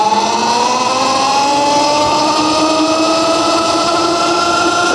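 Anycom DB1 electric dirt bike climbing a hill at speed, its motor whine rising steadily in pitch as it accelerates, loud and continuous over wind noise.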